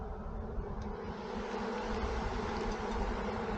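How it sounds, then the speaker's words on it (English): Bees inside an opened hive make a dense, continuous buzzing drone, close and steady throughout, with no talking. "There's a lot of noise inside, so there's a lot of bees inside"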